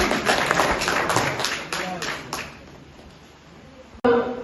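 An audience claps at a seminar and poetry gathering. The clapping starts brisk and strong, thins out and fades, then a voice starts right after.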